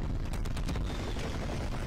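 Dual pistols fire in a video game as a dense, loud volley of overlapping shots and booms in a short continuous burst.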